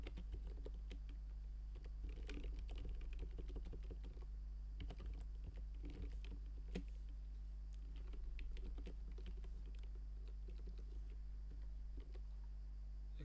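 Keys on a computer keyboard are typed in quick irregular bursts of soft clicks with brief pauses, close but quiet over a faint steady hum, no talking.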